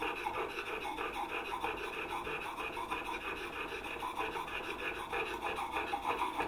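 Steady rasping strokes of a new chisel being honed on a hard sharpening stone, with light pressure and a continuous scraping rhythm close up, with no talking.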